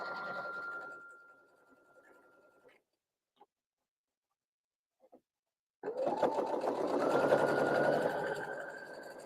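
A sewing machine stitches quilt blocks in a chain, running in a close steady whir, stopping for a few seconds of near silence with small clicks, then starting again louder.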